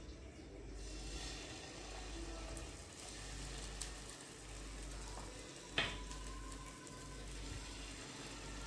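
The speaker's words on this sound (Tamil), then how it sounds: "நம்ம கரைச்சி வச்ச மாவுலேருந்து சின்ன சின்னமாக பேன் கேக் மாதிரி ஊற்றி வச்சுருக்கோம்" Malpua batter poured in small pancake-sized rounds fries in hot oil, a soft, steady sizzle with faint bubbling and one brief clink, fairly quiet throughout.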